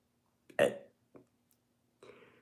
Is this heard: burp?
yes